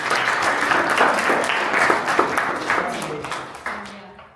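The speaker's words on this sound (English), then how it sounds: "Good, clap hands for her." A classroom of grade 12 students claps for a classmate, a lively burst of hand clapping that gradually thins and fades out over a few seconds.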